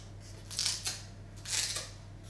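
Kitchen scissors snip through fibrous pandan leaves in two crisp, close cuts about a second apart, each a brief rustling slice over a low steady hum.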